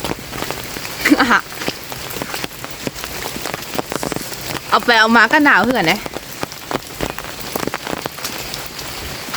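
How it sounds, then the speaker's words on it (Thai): Morning rain falls steadily in a constant close hiss of drops on surfaces, while a person speaks briefly over it. "ตื่นมาพร้อมฝนตก"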